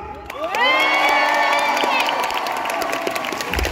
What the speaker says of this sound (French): Je vous demande aussi de faire un tonnerre d'applaudissements pour notre jury qui est devant.